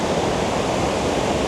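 Minnehaha Falls in Minnesota roars as a steady, dense rush of falling water, loud and close with no other sounds.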